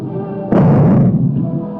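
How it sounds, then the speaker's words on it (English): A loud, deep explosive boom from the first atomic bomb bursting over Hiroshima, Japan, rises abruptly after a steady low rumble, then rolls on as a sustained heavy roar that slowly eases without fully dying away. "the first atomic bomb struck an enemy target"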